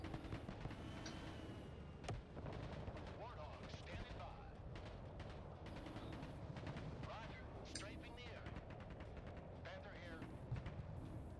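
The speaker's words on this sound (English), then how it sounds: "Here comes the Thunderbolt." An aircraft attack run in the Broken Arrow video game, a dense roar of artillery, machine-gun and explosive fire rumbling continuously with sharp bursts, while a voice talks over the combat.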